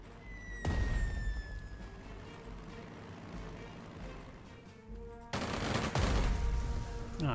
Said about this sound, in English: Let's go and bomb it.